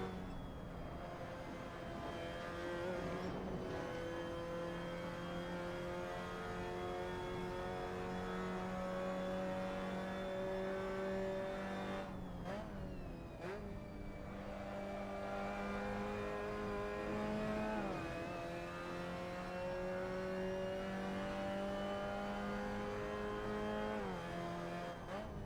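Mazda MX5 race car lapping the Biķernieki circuit, its engine droning steadily with rising and falling pitch through gear changes and corners, close and continuous for the whole stretch with no talking.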